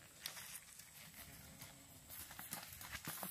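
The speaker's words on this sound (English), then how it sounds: "Here is Buble going down in the creek." Faint hoofbeats of a Tennessee Walking horse clop irregularly over uneven ground into a creek, with soft splashing and rustling, quiet and somewhat distant.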